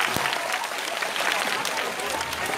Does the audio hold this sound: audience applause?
yes